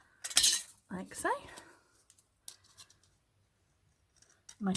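Fabric ribbon strips being cut to a one-inch width with scissors, bringing a few short, crisp snips and blade clicks close up in a quiet room with pauses between them.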